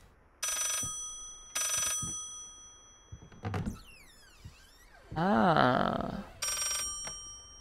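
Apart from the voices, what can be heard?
telephone ringing in the video game Layers of Fear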